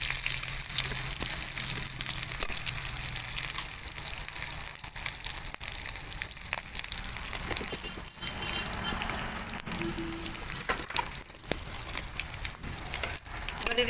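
Whole cumin and bay leaves sizzling in hot oil for a Bengali jackfruit and prawn dish: a continuous loud frying hiss with crackles and pops, alone without talk.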